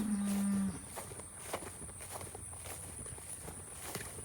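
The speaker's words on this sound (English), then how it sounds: "I want to move the cows." Cattle mooing in a farm paddock: one loud, close low moo opens, followed by quieter livestock shuffling and footsteps with faint outdoor noise.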